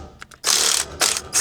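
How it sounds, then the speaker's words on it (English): A Snap-on impact gun on trailer jack bolts gives a few short clicks, then loud rapid bursts: one long rattle, a second shorter one and a quick final blip, close and with no talk. "we're going to use our little snap-on gun here"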